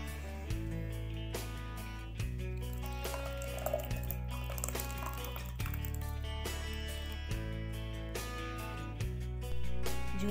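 Juice drips and trickles as it is strained through a washed muslin cloth, quiet wet splashes and squishes repeating at intervals, close and faint with no talking.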